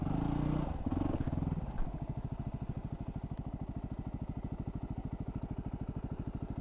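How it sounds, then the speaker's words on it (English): A motorcycle stuck off-road with its rear tire spinning: the engine revs hard for under two seconds, then settles into a steady, close, rapid thumping beat. "Spinning my tire."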